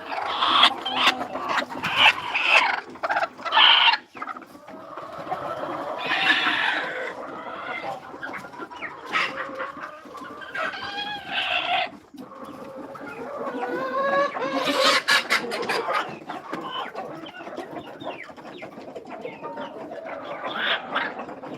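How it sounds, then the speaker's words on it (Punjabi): Hens on a desi poultry farm, sitting on their eggs, cluck and squawk in bursts, several birds near and farther off overlapping, with busy loud stretches separated by brief quieter gaps. "ਸਾਰੀਆਂ ਮੁਰਗੀਆਂ ਬੈਠੀਆਂ ਆਂਡਿਆਂ ਤੇ"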